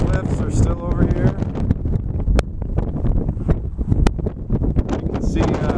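Gusty, dusty wind buffets the microphone on a clifftop, a steady loud roar with rumbling low gusts throughout, while a person talks over it.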